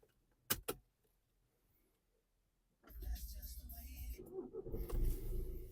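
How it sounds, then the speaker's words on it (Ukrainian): The 2012 Skoda Superb 4x4 automatic comes to life after two sharp key or door clicks and a pause. The engine catches and settles into a steady, close rumble that grows slightly louder toward the end. "Заведемо, послухаємо, як працює, як заводиться."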